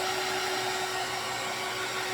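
A hair dryer blows on a non-slip rug mat, producing a steady, close, continuous whooshing drone with a constant pitch and no pauses or talk.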